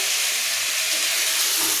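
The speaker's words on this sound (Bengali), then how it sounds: "এই যে ফুলকপি আলু এখন ভাবছি ফুলকপিটা ভাজা হয়ে গেছে" Cauliflower and potatoes fry in a pan with a steady, dense sizzle that holds loud and even throughout, with no voices.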